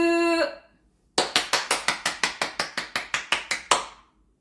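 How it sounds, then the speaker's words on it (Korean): Children at a church service clap in unison about fourteen times in a quick, even rhythm, each clap sharp and close. A short high sung or called note comes first. "박수!"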